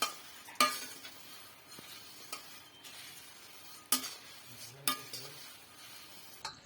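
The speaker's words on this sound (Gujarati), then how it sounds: "સરસ રીતે મમરા ગરમ થઈ રહ્યા છે." Puffed rice is warmed in a pan, a spoon stirring and scraping with occasional metallic clinks against the pan over a faint sizzle, intermittent and close but quiet.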